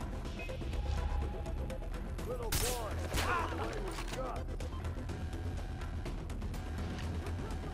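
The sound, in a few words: gunfire in the video game Far Cry 3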